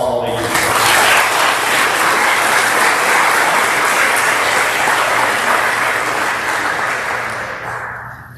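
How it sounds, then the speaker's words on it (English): Audience applause for student athletes at a 2022 athletic awards ceremony, a loud, dense, sustained clapping from a large crowd that holds steady for several seconds before slowly tapering off. "give them a round of applause for all they do"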